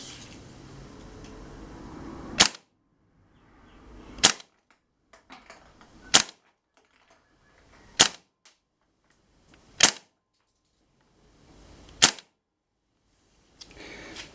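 Seven sharp gas-blowback shots from a KWA Kriss Vector airsoft gun fitted with an RA Tech NPAS, firing 0.2 g BBs on green gas through a chronograph inside a shed, spaced roughly two seconds apart, each a loud crisp crack.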